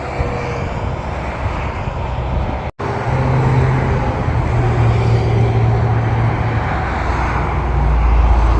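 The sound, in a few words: cars driving on interstate below overpass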